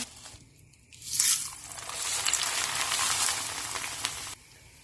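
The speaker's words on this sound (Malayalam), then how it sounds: "ഇനി ഈ എടുത്തു വെച്ച മക്കൈ പോഹ ചൂടായ എണ്ണയിലേക്കിട്ട് വറുത്തെടുക്കാം." Corn flakes sizzle and crackle loudly in hot oil, a steady frying hiss that swells after a brief quieter start and then cuts off.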